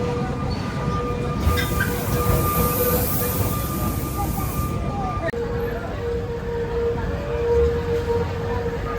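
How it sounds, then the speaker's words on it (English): Sóller tram in Mallorca, a continuous rumbling rail and wheel noise close by with a brief high squeal, steady throughout with faint background voices. "This is where you get the tram from, and it's every man for himself."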